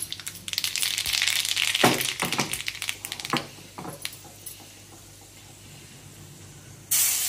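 Mustard seeds crackle and spit in hot oil, a dense burst of sharp pops and hiss that thins into scattered snaps before a fresh loud spray of sizzling near the end.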